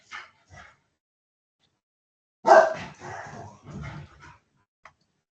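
Several dogs bark and yip in short bursts while playing indoors, a couple of sharp barks followed by a louder run of barking, fairly close with no talk over it.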